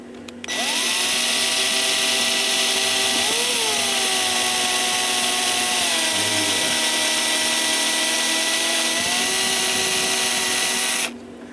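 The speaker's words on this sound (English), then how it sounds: "Okay, so we got 3 bushings to do on the run side. Okay, use a reamer." A power tool drives a reamer to open the bushing holes on the run side of a cuckoo clock movement with a music box, making a steady, loud whine that holds for about eleven seconds with small pitch dips.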